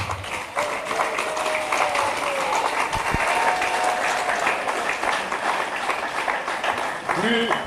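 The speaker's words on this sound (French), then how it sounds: "Acclamez plus fort Guy Philippe" A church congregation at a Sunday revival service applauds and cheers loudly and steadily, a dense wash of clapping and voices with a sustained shout or tone rising above it.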